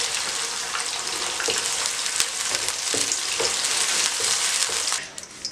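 Bell peppers sizzle steadily in a hot pan for a vegetable macaroni rice dish, a dense, continuous frying hiss with a few faint stirring knocks, ending abruptly.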